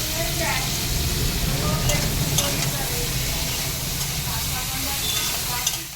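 Vegetables fry in a pan with a steady, close sizzle and occasional stirring scrapes throughout, with faint voices in the background.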